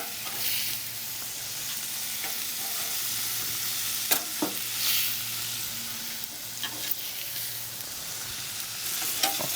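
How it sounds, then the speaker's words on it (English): Steaks sizzle on the cool side of a PK grill, a steady crackling fry with intermittent pops and bursts of louder spitting, moderately close and continuous with no voices. "So it's time to get these set up over here on the cool side of the grill where they'll be finishing"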